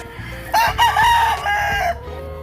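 A pure white Kelso gamefowl rooster crows nearby, one long drawn-out call of about a second and a half, clear and loud over a low background hum.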